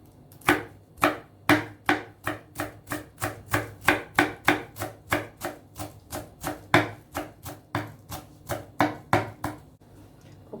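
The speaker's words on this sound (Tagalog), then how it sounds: "1/2 bunch of coriander, slice into thin." A knife slices half a bunch of coriander thinly on a cutting board for a turkey, mango and avocado salad, giving about two dozen crisp, evenly paced chops, close and clear with no talk.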